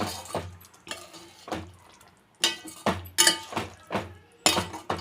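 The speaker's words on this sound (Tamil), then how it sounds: "நல்லா கலந்து விட்டுட்டு நம்ம அடுப்பை நிறுத்திடலாம்" A spoon stirring mutton kola urundai curry (meatball kuzhambu) in a metal pot, giving repeated clinks and scrapes in irregular bursts, close and moderately loud, with no talking.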